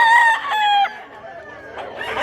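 A rooster crows loudly and close at hand, a long harmonic call that trails off, followed by softer clucking from gamefowl at a roadside market in Mantalungon, Cebu.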